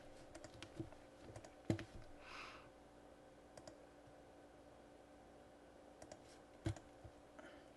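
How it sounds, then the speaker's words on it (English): Typing on a computer keyboard while entering text into an Excel spreadsheet: sparse, quiet clicks in short bursts with a couple of sharper louder keystrokes, separated by pauses over a faint room hum, no one talking. "Now I'll just type in price per"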